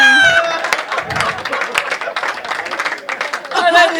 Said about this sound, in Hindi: भैया तालियां बज गई